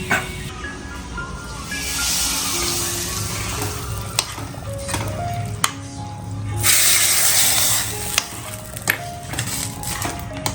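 Butter, garlic and green chili tadka for spinach-paneer sizzles and hisses steadily in a pan while being stirred, with occasional clinks of a spoon against the pan, fairly close with no talking.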